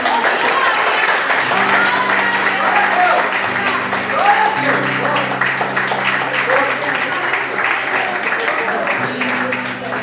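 A church congregation claps steadily through worship, a dense, loud wash of applause running the whole time beneath sustained music tones and a voice speaking over it.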